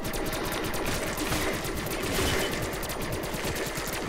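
Rapid, sustained automatic fire from the Death Machine minigun in Call of Duty Black Ops III's Der Eisendrache zombies mode, a dense nonstop rattle of shots at loud, even level for the whole stretch.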